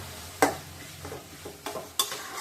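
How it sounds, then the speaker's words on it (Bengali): A metal spoon scrapes and clanks against a pan while cooked bottle gourd is stirred, giving a few sharp knocks among softer scraping and a faint sizzle. "এবার আমি একবারে ভালো করে নেড়ে ছেড়ে লাউটা নামিয়ে নিচ্ছি"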